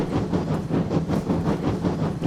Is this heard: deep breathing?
no